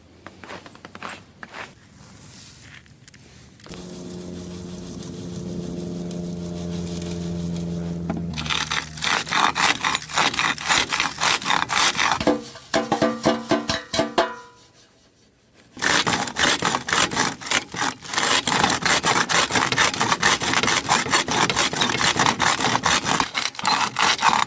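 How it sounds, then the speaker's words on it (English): Gold ore is fed into a crusher, first a brief low humming drone, then sustained loud grinding and rattling scrapes with a short pause before the harsh crushing resumes. "First of all, I'll put this in the crusher."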